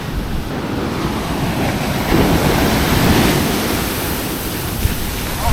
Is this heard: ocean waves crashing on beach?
yes